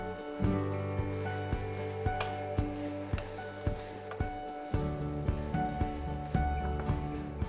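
Thinly sliced vegetables sizzle in an onion and garlic mix for veg hakka noodles, a steady close frying hiss punctuated by regular sharp taps and clacks of a utensil against the pan.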